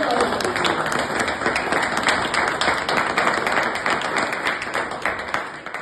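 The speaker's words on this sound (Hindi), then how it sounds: "नौजवान एक बार जोरदार वाली ताली।" A large audience claps loudly and continuously in a dense, even roar of applause. The clapping holds steady throughout and then tapers slightly toward the end.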